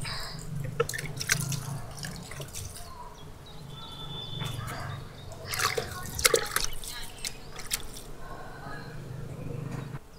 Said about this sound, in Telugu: నీళ్ళు చల్లేస్తే కింద మట్టి కూడా తడవుద్ది.